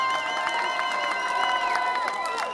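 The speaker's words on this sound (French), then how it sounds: "Oui, on applaudit" Crowd at a punk rock show in a Paris club, cheering and clapping together in a dense, sustained wash of shouts and applause.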